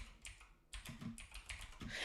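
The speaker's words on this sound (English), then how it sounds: "I'm typing." Close, quiet keystrokes clatter on a computer keyboard in an irregular burst of typing, with no voices.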